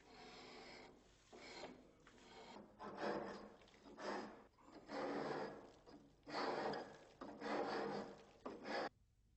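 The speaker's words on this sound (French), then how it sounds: "Pour creuser les rainures d'encastrement des tuyaux d'arrivée d'eau ou des gaines électriques, nous nous servons d'un grattoir à main." A hand scraper rasps grooves into Ytong aerated concrete in about six long, rough scraping strokes separated by brief pauses, close and fairly loud with no talking.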